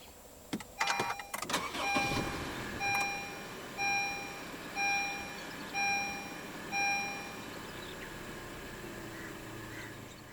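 A 2019 Honda HR-V 1.8 V push-button start: scattered clicks and clunks followed by a series of short, evenly spaced electronic chimes, with a faint hum of the car powering up beneath.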